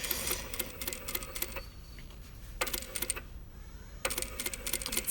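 Sewing machine stitching a stretchy side piece of denim for jeans pockets, running in bursts of rapid stitching with short pauses between, close and fairly loud with no talk.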